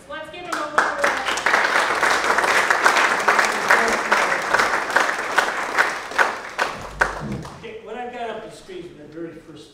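An indoor audience at a talk on whiskey and temperance claps in a dense, sustained round of applause that swells and holds for several seconds, then thins into scattered claps as a voice begins speaking.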